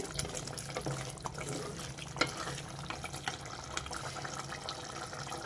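Broad bean seeds simmer slowly in a pot on a stove for a fenugreek-leaf curry, giving a steady, faint bubbling with soft watery pops and ticks throughout and no voices.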